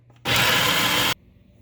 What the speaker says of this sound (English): I have my onions in my food processor. I'm gonna go ahead and pulse it as fine as I can.